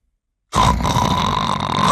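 A voice imitates loud, rough snoring, a sustained grating rasp that starts abruptly after a short silence and continues steadily.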